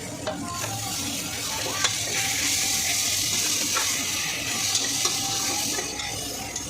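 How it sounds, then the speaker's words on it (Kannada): Ginger-garlic paste roasting in a pan with green chillies, mint and coriander, a steady close sizzle with scraping stir strokes throughout, no voices. "ಶುಂಠಿ ಬೆಳ್ಳುಳ್ಳಿ ಪೇಸ್ಟ್ ರೋಸ್ಟ್ ಆದಮೇಲೆ 2ರಿಂದ 3 ಹಸಿಮೆಣಸಿನ್ಕಾಯಿ, ಪುದೀನ, ಕೊತ್ತಂಬರಿನ ಹಾಕ್ಕೊಂಡು ರೋಸ್ಟ್ ಮಾಡ್ಕೊತಾ ಇದ್ದೀನಿ."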